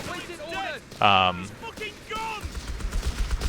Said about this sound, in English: And I need him covering this MG out